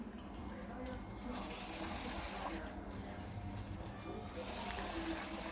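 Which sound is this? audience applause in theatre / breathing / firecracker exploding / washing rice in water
washing rice in water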